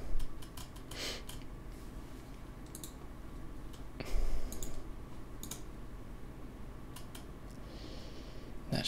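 Sparse, light computer mouse clicks in Eclipse project settings, scattered irregularly over a low steady hum, with a slightly louder cluster near the start and midway.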